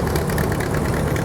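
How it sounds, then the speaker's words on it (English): A John Deere tractor pulling a number 30 combine in a parade, its engine running with a steady, dense rumble and a faint knocking texture, close and continuous for just over a second. "John Deere pulling a number 30 combine."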